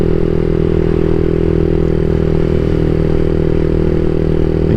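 Close and loud, a CSC SG250 motorcycle with a MotoCult Stage 4 exhaust pulls hard under throttle, a steady, dense engine roar with no pause and no talk.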